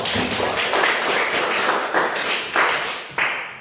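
Classroom applause for classmates, a steady patter of many hands clapping with several louder swells, no voices.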